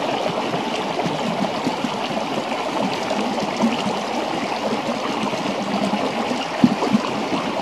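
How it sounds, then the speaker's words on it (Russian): The mountain river Arsha in the Southern Urals rushes over its bed in a steady, even wash of flowing water, heard up close with no voices. "горная речка Арша"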